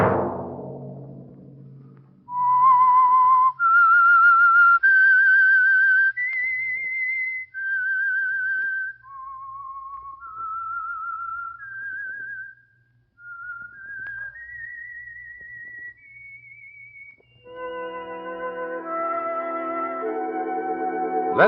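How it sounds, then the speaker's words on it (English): The Whistler radio show's signal tune, whistled alone as a clear, echoing solo melody of sustained notes rising and falling, closing with a swell of orchestral music. "Let that whistle be your signal for the Signal Oil program"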